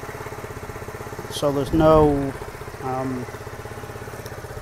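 A small four-stroke 125cc single-cylinder fuel-injected engine on a Lexmoto Titan motorcycle idles after a cold start with a steady, rapid putter up close while someone speaks over it.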